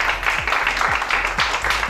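Audience applause at a bridal makeup and modeling show, steady dense clapping from a crowd with a low hum underneath, continuous throughout.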